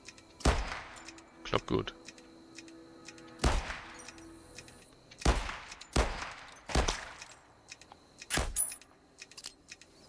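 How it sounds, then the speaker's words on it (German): Gunfire from an aiming at targets in the VR game Arizona Sunshine 2 on PlayStation VR2: sharp single shots spaced a second or two apart, about seven in all, with someone speaking German briefly between them. "Ich schieße alle Ziele."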